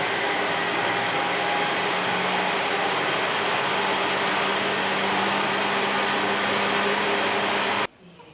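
A stand mixer runs continuously, creaming dough for Melting Moments cookies, a steady even whir with a faint hum that holds for several seconds before cutting off abruptly near the end.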